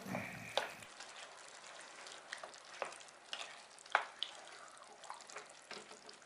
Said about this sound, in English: Stir it all in together.